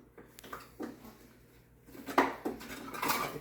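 Rummaging through a drawer of kitchen utensils for a tablespoon, with scattered metallic clinks and clatters of cutlery and pans, growing busier and louder toward the end, no talking.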